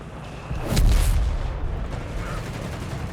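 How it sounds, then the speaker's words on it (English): Gunfire in the Company of Heroes 3 strategy game, likely a .30 cal machine gun cutting down Grenadiers in the open: a loud burst of booming shots near the start, then a steady rumble of battle, no talk. "30 cal on the Grenadiers, 450 cal on the Grenadiers, ripping them apart there in the middle of the open"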